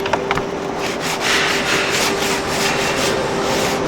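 A sanding block rubs along the edge of a melted plastic trim piece during a Ford Transit Custom campervan swivel install, giving a steady, close, loud scraping rasp that runs throughout without pauses.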